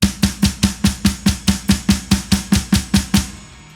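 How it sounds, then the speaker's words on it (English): A hammer blast beat on a drum set, with kick, snare and cymbal struck together in about fourteen even, heavy hits at a moderate pace, loud and close, ending with a cymbal ringing out. "It's called the hammer blast or the hyper blast"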